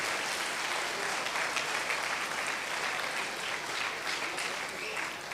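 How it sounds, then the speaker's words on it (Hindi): Audience applause at a youth program gathering, a sustained crowd of clapping hands, fairly loud and even, with some voices mixed in. "एक दूसरे के लिए ताली मारिए थोड़ा"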